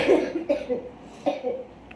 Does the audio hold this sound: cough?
yes